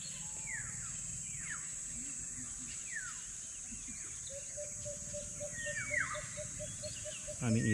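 Birds chirp and call along a new road near the Bonifacio shrine in Maragondon, Cavite, with several short rising tweets and a steady run of repeated pips over a constant insect drone and faint outdoor ambience.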